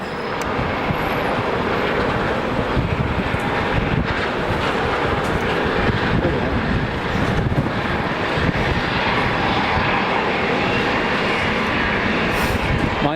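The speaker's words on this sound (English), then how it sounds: "Engine start." Air Transat airliner engine spooling up at Manchester Airport, a steady broadband roar mixed with wind buffeting the microphone, loud and continuous throughout with no talk.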